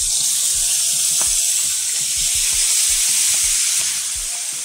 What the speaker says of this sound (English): now we're going to just add some lemon juice